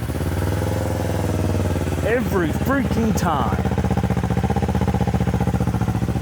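A Kawasaki Ninja 500 fitted with a Yoshimura exhaust idles with a steady, loud, throbbing rumble. Someone speaks briefly over the engine partway through.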